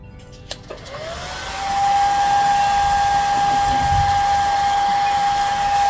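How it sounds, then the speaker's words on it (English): A hair dryer starts up with a click and rises into a loud, steady whooshing blow with a constant whine, running alone without talk. "I'm getting my hairdryer."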